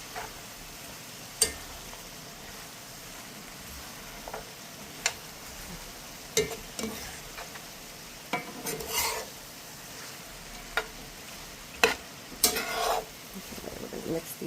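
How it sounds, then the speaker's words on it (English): Walnuts are stirred into a sausage, apple and celery stuffing in a pan, a quiet scraping and clinking of a spoon with scattered sharp knocks over a faint sizzle. "we want to add our walnuts and then just mix in"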